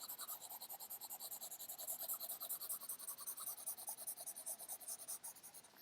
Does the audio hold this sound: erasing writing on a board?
yes